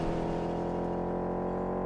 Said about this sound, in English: Not too sure on the engine sounds in this. They're a bit ropey.